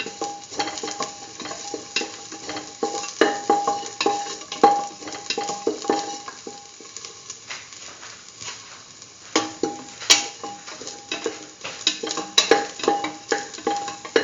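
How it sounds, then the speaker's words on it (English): Lentil and potato stew ingredients with green chili sauté in a pan, crackling and sizzling under repeated spoon stirs and scrapes that clatter irregularly throughout, loud and close. "Saute this thoroughly."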